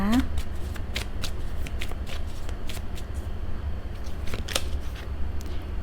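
Tarot cards are shuffled close up in a steady run of crisp, papery riffles and flicks while someone talks over them.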